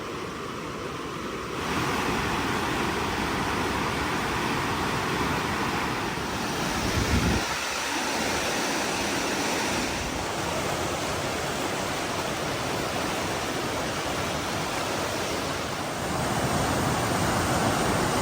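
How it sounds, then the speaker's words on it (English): Raging river rapids pouring down from Vernal Falls in Yosemite after record snowfall, a loud continuous roar of rushing water with shifting wind buffeting the microphone. "This thing is a raging river coming down from Vernal Falls."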